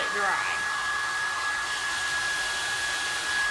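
Hair dryer blowing steadily on a fresh coat of patina effect paint, a continuous close airy whoosh and motor hum holding at even loudness throughout with no talk.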